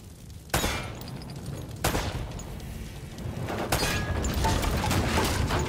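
Gunfire in the video game Uncharted: Drake's Fortune remastered, aimed at a hanging lamp, with sharp loud shots near the start and around two seconds, then a later crash, over steady background ambience.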